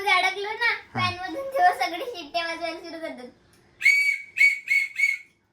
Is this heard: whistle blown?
yes